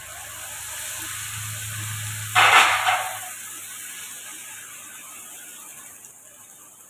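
Onions hitting hot oil in a pan for paneer makhani, a sudden loud burst of sizzling that fades into a steady quieter frying hiss, with no talk.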